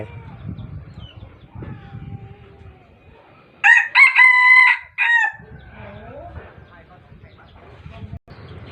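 A rooster lets out a single loud, close crow of about a second and a half, rising and breaking off in two parts, with muffled voices and low background noise before and after it.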